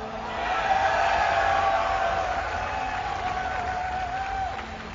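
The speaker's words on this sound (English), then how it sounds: "If you'd like him to win, give a cheer for KT's Flash" Arena crowd at an MLG Dallas StarCraft esports match, a broad sustained roar of cheering and applause swelling in and holding steady throughout, with a high tonal line running through the noise.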